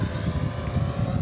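Electric motor and propeller of a foam board RC seaplane running on water, a steady buzzing drone with broad noisy whir, moderately loud and continuous for just over a second, no voices.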